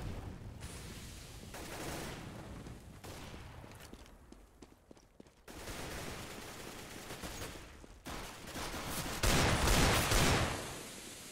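Counter-Strike gunfire from a Desert Eagle on Inferno pops amid dense game noise, with sharp shots scattered through a busy, fairly quiet mix of background action.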